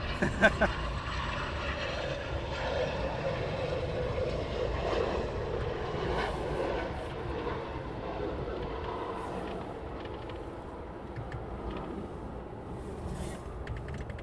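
Eurofighter Typhoon jets return to RAF Coningsby, a continuous broad, distant engine roar holding steady throughout, with a voice talking over it.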